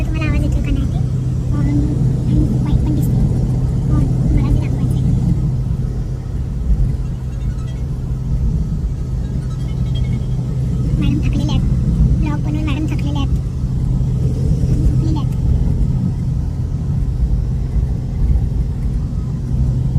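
A car drives along with a steady, loud engine rumble and road noise that continues without a break, while people talk over it inside.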